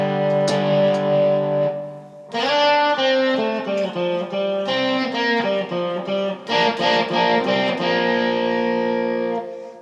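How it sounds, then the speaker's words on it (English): Electric guitar played through a Joyo US Dream pedal set for heavy distortion, thick saturated chords and sustained notes ringing loud and close, with short pauses between strummed phrases. "I bought this US Dream at the same time as I bought the Vintage because I didn't know what it was, but it's a very heavy distortion"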